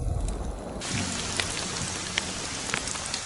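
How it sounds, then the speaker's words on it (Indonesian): Artificial rain falls in a steady, dense patter on a hard surface, with individual drops ticking out now and then and no voices. "Pasti hujan buatan"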